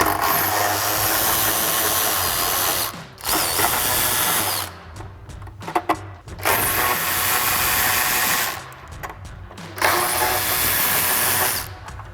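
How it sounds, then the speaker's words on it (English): Power driver spinning an 8 mm socket to remove screws from the front lower valance of a 2018-2020 Ford F-150, in close, loud whirring bursts separated by short pauses, with no talk. "So grab our 8 millimeter socket and remove these."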